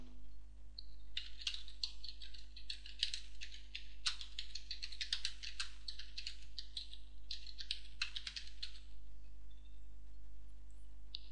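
Rapid typing on a computer keyboard, a close, steady patter of key clicks lasting several seconds over a constant low electrical hum.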